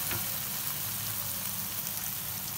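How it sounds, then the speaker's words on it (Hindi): Bread slices for shahi tukray fry in very hot ghee, a dense, even, close-up sizzle that holds steady at full intensity throughout. "अब हम इसको तल लेते हैं। देखिए इस तरह करके घी हमारा तेज़ गरम है"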